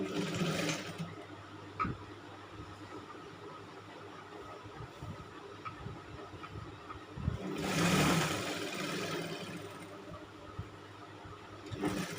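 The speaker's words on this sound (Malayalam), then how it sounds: "എന്നിട്ട് നമുക്ക് ഈ ലൈനിങ് പീസ് ഇങ്ങനെ വെച്ചിട്ട് സ്റ്റിച്ച് ചെയ്ത് കൊടുക്കാം." A sewing machine stitches a lining piece for a pleated nighty, running in a steady mechanical whir with short bursts and pauses. A louder surge comes near the end, and no one speaks.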